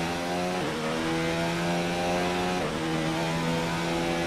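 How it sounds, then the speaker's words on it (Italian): A Red Bull RB15 Formula 1 car in fuel-saving mode at the Russian Grand Prix in the F1 2019 racing game gives a steady, loud buzzing engine drone, with brief dips in pitch during gear changes. "Già sento che il motore è molto più rallentato"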